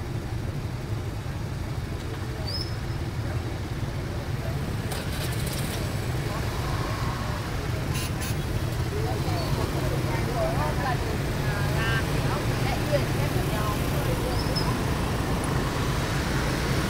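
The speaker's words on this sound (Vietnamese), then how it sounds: "xe cộ chạy ầm ầm như này nó cũng ghê." Steady rumble of road traffic near the Kim Lien underpass in Hanoi, a continuous loud low wash of passing vehicles and engines with occasional higher horn-like tones.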